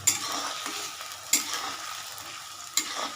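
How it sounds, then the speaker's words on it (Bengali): Food sautés in a pan until brownish, giving a steady soft sizzle broken by three sharp scraping stirs spaced about a second apart, close and without talk. "আগে এটাকে একটু সাঁতরে নিই যতক্ষণ না ব্রাউনিশ হবে"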